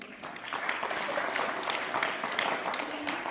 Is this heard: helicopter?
no